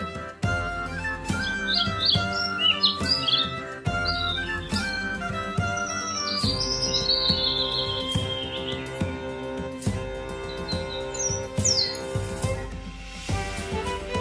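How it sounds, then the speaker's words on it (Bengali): A dove calls from a tree in high chirps and tweets, ringing out in short bursts over a steady music track. "ঘুঘু পাখি ডাকছে গাছে"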